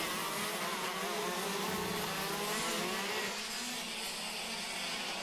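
KZ2 shifter racing karts at a national sprint championship scream past with high, buzzing two-stroke engines, the whine sweeping and fading as the pack goes by, loud and sustained with no talking.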